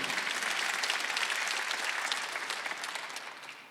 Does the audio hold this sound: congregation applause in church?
yes